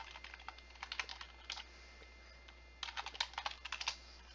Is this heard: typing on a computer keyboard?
yes